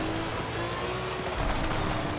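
A race car's engine drones steadily in Forza Horizon 5, played on a Fanatec CSL wheel, a continuous loud hum that swells slightly near the end, with no voices.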